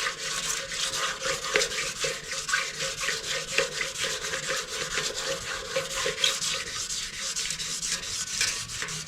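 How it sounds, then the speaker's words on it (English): Paint being wet sanded by hand with soaked 2000 grit sandpaper on a vintage mini dirt bike part, a steady close rasping rub in quick back-and-forth strokes that continues for the whole stretch. "sand this thing"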